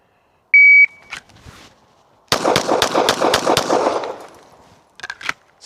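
A shot timer beeps once, then a rapid string of six Glock pistol shots rings out in a shooting drill, loud and evenly spaced, followed by a few faint clicks and knocks.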